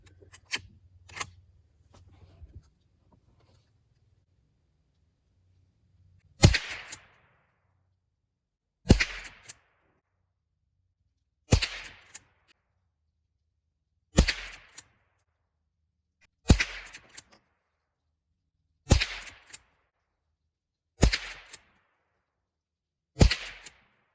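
Ten evenly spaced sharp cracks ring out from a Henry H001 rifle firing Remington High Velocity rounds at an outdoor range, each shot loud and close with a short trailing echo and long silences between.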